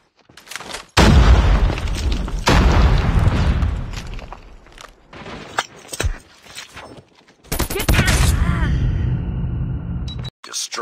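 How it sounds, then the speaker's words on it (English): Heavy booming grenade blasts and rattling bursts of gunfire erupt in a combat video game, loud and close, separated by short quieter gaps, with voices calling out in between. "Grenade out!"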